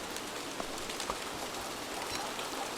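Steady rain in the survival video game Don't Starve Together, a dense, even hiss of falling drops that runs through the whole stretch with no talk over it.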